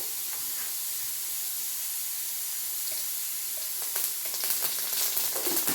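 Mustard seeds sizzling in hot oil in a pan for a tomato buttermilk curry, a steady close hiss that grows busier with sharp crackling pops toward the end, no voices.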